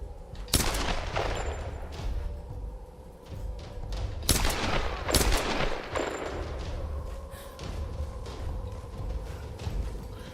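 Gunfire in the Tomb Raider video game, with several loud bursts of shots scattered over steady low background rumble and mechanical noise, and no voices.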